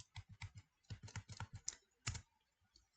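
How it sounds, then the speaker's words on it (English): Quick bursts of typing on a computer keyboard, close and fairly quiet, with separate clustered key clicks and short pauses between groups. "now we are typing our 1 of 3 messages"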